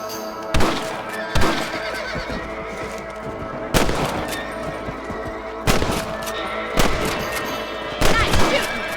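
Single rifle shots crack out one at a time at rabbits in Red Dead Redemption, about six sharp reports spaced a second or two apart over a quiet outdoor background.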